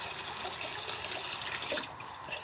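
Water running steadily into a container for farm animals, a continuous close splashing and trickling fill with no pauses and no talking.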